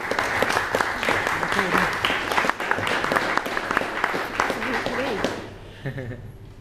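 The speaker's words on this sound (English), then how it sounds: "Big round of applause for Kathy" An audience applauds for an author at a story reading, with a dense, sustained clapping that tapers off near the end while a voice speaks over it.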